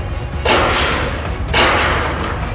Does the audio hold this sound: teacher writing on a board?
no